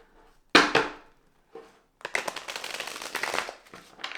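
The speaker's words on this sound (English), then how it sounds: "I'll give it one more shuffle here." Light Seer's Tarot cards being shuffled by hand: a sharp riffle burst early, a brief pause, then a longer run of soft, rapid card flutters, close and fairly quiet with no talking.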